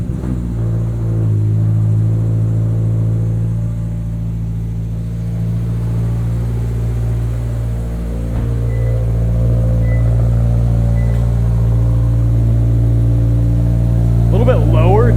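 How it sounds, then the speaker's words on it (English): A 2022 Subaru BRZ fitted with an MRT street/race axle-back exhaust runs at a cold-start idle, a loud, steady, deep engine drone close by, holding evenly throughout. "Let's start this car up. We'll do a quick cold start"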